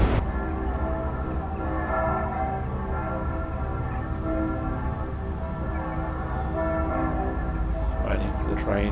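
A train in Train Simulator Classic approaches from out of view, producing a sustained rumbling engine drone with a steady harmonic hum that holds at an even level throughout.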